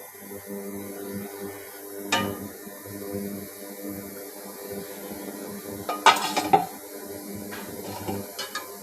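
A lid clatters onto a cooking pot set on low heat, with a few sharp metallic clinks and knocks over a quiet background hum and soft kitchen handling.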